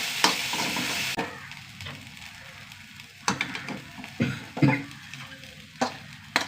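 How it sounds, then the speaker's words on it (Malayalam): Prawns sizzle in a hot pan under a steady frying hiss, broken by repeated scraping clatters as a utensil stirs them, with no talk. "നമ്മൾ ചെമ്മീൻ നമ്മൾ വറുക്കട്ടെ"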